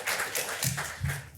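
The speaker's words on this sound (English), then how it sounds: "I think that deserves a round of applause" Conference audience at an advocacy panel discussion breaking into a round of applause, a dense wash of many hands clapping at moderate distance, with a few louder pats standing out near the end.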